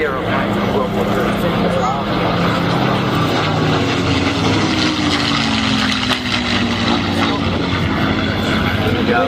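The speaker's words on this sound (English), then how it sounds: "Lean silver aircraft. I've never seen these Warbirds." A loud, continuous drone of WWII propeller warbird engines at an airshow, roaring steadily throughout, with a slowly shifting pitch as a plane passes nearby.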